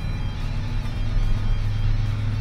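A Ford F350 pickup truck drives back toward the workshop after its full inspection, its engine a steady low rumble with continuous road noise, close and even throughout without talk.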